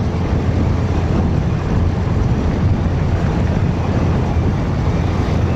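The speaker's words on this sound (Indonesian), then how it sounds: "Ini aslinya untuk suara angin, gua dengarnya itu di telinga kenceng banget." Strong wind buffets a camera microphone during a motorbike ride toward KEK Pantoloan in Central Sulawesi, a loud, continuous roaring rush that never lets up, with no talk.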